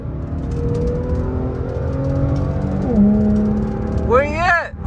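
An Infiniti G37X fitted with aftermarket intake and exhaust accelerates, its engine note climbing through rising tones with a shift, then revving hard near the end, heard from inside the car with some background voice.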